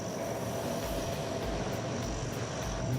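A Hercules military transport plane of the Indonesian Air Force, its propeller engines producing a loud, steady, broadband roar that holds constant throughout with no voices.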